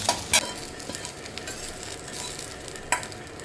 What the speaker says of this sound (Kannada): ಇವಾಗ ಬನ್ನಿ ಇದನ್ನು ಒಂದು ಪ್ಲೇಟಿಗೆ ತಗೊಂಡು ನೆಕ್ಸ್ಟು ಮೆಣಸಿನ್ಕಾಯಿ, ಶೇಂಗಾ ಎಲ್ಲನ ಫ್ರೈ ಮಾಡ್ಕೊಳ್ಳೋಣ.